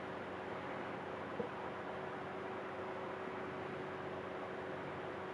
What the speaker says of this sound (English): that noise you hear is traffic outside.